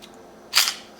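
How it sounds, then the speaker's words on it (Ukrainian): The slide of an Ortgies pistol is pushed forward and lifted off during disassembly, producing one sharp, close metallic click that ends quickly, against a quiet background. "натискаємо і притримуємо цю кнопку, посуваємо затворну раму, буквально на сантиметра 2 і піднімаємо її вверх"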